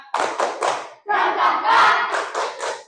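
A classroom group performs a rhythmic spirit clap: three sharp clap bursts, a short pause, then a longer stretch of loud, dense clapping ending in a few more beats. No speech is heard.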